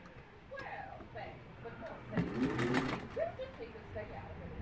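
A domestic sewing machine sews Victorian fan quilt pieces in a short burst of rapid stitching in the middle, quiet and close, with a voice talking softly before and after.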